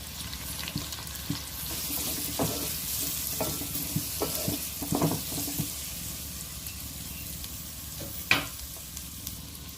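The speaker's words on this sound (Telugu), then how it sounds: "ఇలా అయితే ఆనియన్స్ తొందరగా ఫ్రై అయిపోతాయి" Onions with turmeric fry in a pan for a crab curry, a steady close sizzle broken by repeated scraping stirs and one louder clank near the end, with no talk.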